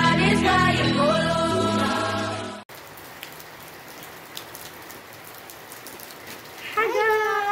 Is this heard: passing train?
no